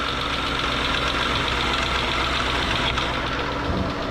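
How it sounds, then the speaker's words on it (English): A 2013 Hyundai Equus 5.0L GDI V8 idles with a damaged cooling fan, giving a steady, close engine hum and whirring drone with a faint rough undertone and no talking. "appears we have a little bit of a noise coming from the cooling fan"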